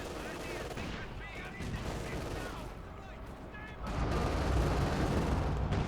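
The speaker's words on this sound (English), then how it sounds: "What is that noise? It's the KV-1s." KV-1 tanks firing in the game Company of Heroes 2, a dense rumbling battle of repeated gunfire and booms, moderately loud and continuous, swelling louder toward the end.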